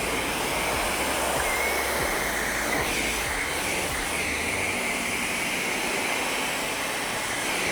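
Rinse water from washing a car cascades down a driveway carrying suds, a steady broadband rushing hiss like a small waterfall, close and constant throughout.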